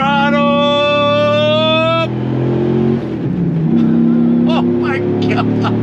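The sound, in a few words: Dodge Ram SRT-10 Viper truck accelerating on throttle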